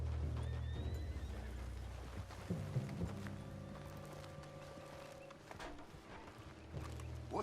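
A spooked horse in Red Dead Redemption 2 lets out a loud, shrill whinny near the start, followed by restless hoof clops and snorts against a low ambient hum, with no speech.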